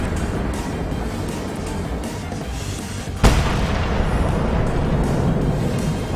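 In a tank video game, a shell strikes an enemy tank and explodes, one sharp loud blast midway through a rumbling engine-and-battle background.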